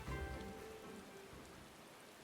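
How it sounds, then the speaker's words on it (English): Rain falls in the video game Final Fantasy XIV: Stormblood, a faint, steady patter under a soft hum of game music, ending in a sudden loud burst at the very end. "And now we stand out in the rain"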